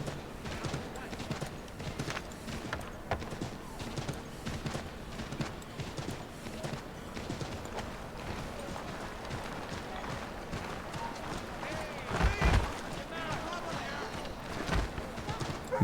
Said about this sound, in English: eu não lembrava de andar de cavalo no Assassin's Creed 3